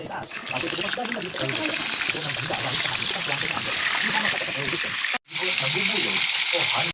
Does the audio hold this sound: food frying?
yes